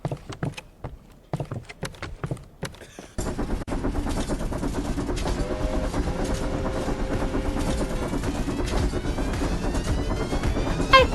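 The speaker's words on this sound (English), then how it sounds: "I love the train! The train! I love the train!" A train rumbles in the video game Indika, first sounding as sparse rhythmic clatter and then as a loud, steady rolling roar with faint squeals, close and continuous, with no voices.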